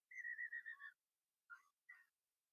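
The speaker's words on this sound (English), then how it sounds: "The referee's whistle has gone." A referee's whistle at a rugby union match sounds as a long warbling trill followed by two short sharp blasts, isolated and fairly faint.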